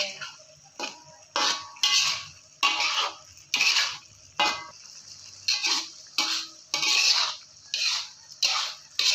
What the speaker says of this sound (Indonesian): Sambil ditunggu ya teman-teman, tetap kita oseng-oseng atau kita aduk-aduk seperti ini